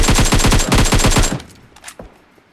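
Rapid automatic gunfire in a solo-versus-squad battle royale video game, a dense burst of repeated shots for over a second before cutting out, leaving a few faint scattered pops and thuds in a quieter background.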